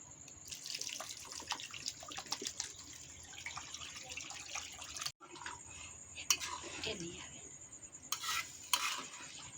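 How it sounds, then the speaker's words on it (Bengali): Water poured into a cooking pot of muri ghonto, a steady splashing stream with some clinks of utensils, close up, cut by one short break and a few sharper clatters near the end. "এবার আমরা এর মধ্যে জল দিয়ে দেবো, একটু বেশি করে জল দেবো"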